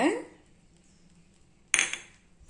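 A spoon clanks against a pot while kavuni black rice and black urad dal kali is stirred, with cardamom and dry ginger powder. There are two brief metallic scrapes and clinks close by, with quiet gaps between.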